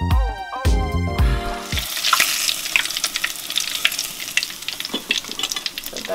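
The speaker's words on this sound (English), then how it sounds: "I'm going to take out this fish because it's completely fried now." Fish fries in hot oil in a pan for a Nigerian okra soup, crackling and spitting loudly at close range in dense irregular bursts, after a brief stretch of other kitchen noise at the start.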